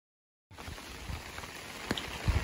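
Rain pattering on an umbrella on the Appalachian Trail during a through-hike, a close, continuous spatter of drops starting abruptly after a moment of silence, with a few louder individual hits standing out.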